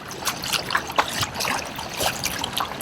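Kayak paddle strokes splashing in moving water during a kayak angling lesson, several uneven splashes and dribbles in quick succession, close and moderately loud.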